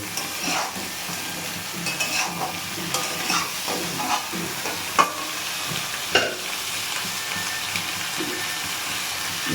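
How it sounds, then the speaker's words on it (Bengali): Washed vegetables stir-fry with fried onion in a pan, sizzling steadily up close, with scattered stirring scrapes and a couple of sharper clanks from the spatula. "এই যে পেঁয়াজটা আমার মোটামুটি ভাজা হয়েছে, এবার আমি এই যে ধুয়ে রাখা সবজিগুলো দিয়ে দেব"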